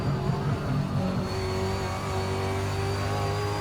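A Ford Falcon V8 Supercar at Bathurst in Assetto Corsa holds a steady, droning engine note at sustained revs in fourth gear. It sounds close and continuous, with a slight dip in pitch partway through and no voices.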